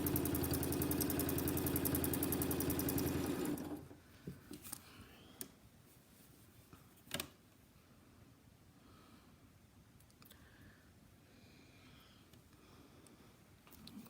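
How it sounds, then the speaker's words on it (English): A sewing machine quilting along a template line runs with a loud, steady mechanical whir for about four seconds and then stops, leaving a few faint clicks and taps. "So I'm sewing to the line."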